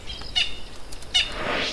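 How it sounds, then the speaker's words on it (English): A francolin gives a harsh alarm call in the wild, two brief sharp squawks about a second apart, fairly close, followed by a rustling whoosh that may be wingbeats. "Franklins give that alarm call when they see danger."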